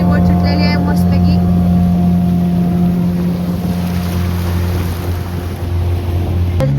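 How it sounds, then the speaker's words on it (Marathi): A small motorboat carrying a group heads out and cruises over open water near a shore, its engine droning steadily and loudly with wind rushing past the microphone throughout. "आणि आमची बोट सुटलेली आहे मस्तपैकी"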